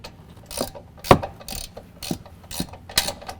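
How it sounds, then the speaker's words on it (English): A ratchet with a 16mm socket tightens the top strut mount bolts on a 2015-17 Ford F-150 4WD during a lift kit install, giving several short, separate clicking bursts spaced irregularly and heard close up. "now I'm going to use a 16mm and tighten down our top 3 strut mounts locations"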